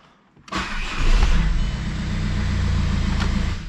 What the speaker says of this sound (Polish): auto powinno bez problemu odpalić